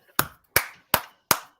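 Four sharp hand claps in an even, deliberate rhythm, each crisp and close with a short room tail, spaced about a third of a second apart with silence between.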